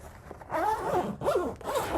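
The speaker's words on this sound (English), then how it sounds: "We have zippers on both sides." A zipper on a Saddlemen BR3400 tactical motorcycle bag is pulled in two or three quick rasping strokes, close and clear, with nothing else heard.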